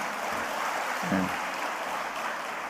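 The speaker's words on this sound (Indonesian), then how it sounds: "Ini boleh tepuk tangan yang ini." An audience at a political talk breaks into dense, steady applause, a continuous rain of clapping that holds at even loudness throughout without speech.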